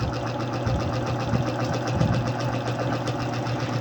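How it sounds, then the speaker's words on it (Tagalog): A Yamaha Mio Soul i 125 motorcycle engine runs close by with a steady, busy mechanical chatter and a low hum, at an even level throughout. "Pakinggan natin ang makina."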